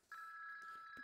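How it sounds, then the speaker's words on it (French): A telephone rings once with a steady electronic tone that carries on for about a second. It is alone and fairly quiet, with no talking over it. "Oh tiens, un téléphone."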